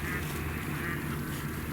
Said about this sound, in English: So high hopes with mallards quacking.